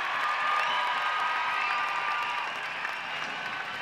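A crowd roars and cheers inside the Dundee Ice Arena near the end of an ice hockey game between Dundee Stars and Glasgow Clan, a broad sustained wash of noise with a long horn-like tone running through it, easing slightly toward the end.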